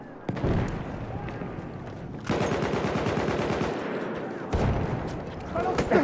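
Rapid machine gun fire from the Battlefield 1 video game rattles in long, dense bursts, loud and close, with brief gaps and layered battle noise between them.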